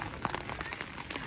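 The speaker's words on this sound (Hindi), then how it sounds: "बहुत ज़ोरों की बारिश हो रही है, ये आप लोग देख सकते हैं कितनी तेज़ बारिश हो रही है।" Heavy rain pours down outdoors in a dense, even hiss of drops spattering on surfaces, steady and fairly close, with no voices.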